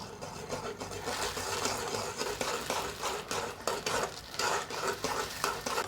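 Puffed rice being stirred into sugar syrup in a pan for murmura ladoo, a dense continuous scraping and rustling with small irregular clinks, steady and close with no talk.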